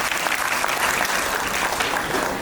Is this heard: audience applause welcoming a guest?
yes